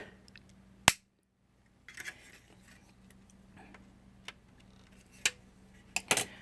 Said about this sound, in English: Just take another quick snip.